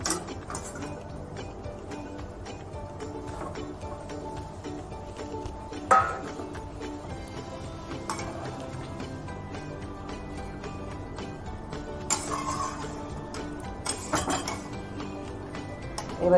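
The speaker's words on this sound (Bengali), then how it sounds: "ঝোলটা ফুটে গেছে, এখন আমি পটলগুলো সব দিয়ে দেবো।" Pointed gourds go into a pot of boiling mustard gravy. The sound is quiet, with a soft simmering bed and scattered metallic clinks of utensil against pot, a few sharper knocks standing out.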